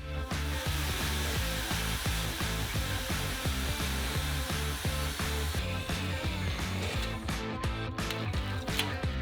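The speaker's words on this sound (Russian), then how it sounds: "И теперь нужно сделать большое количество отверстий с помощью шуруповерта." Cordless screwdriver drilling many holes through a plastic tray, a steady loud whirring motor with short repeated bursts as each hole is bored, running continuously with no talk.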